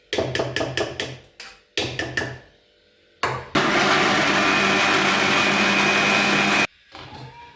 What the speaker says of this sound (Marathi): 1 मिनिटात मिक्सरमध्ये 2 मिनिटात फिरून घ्यायचं.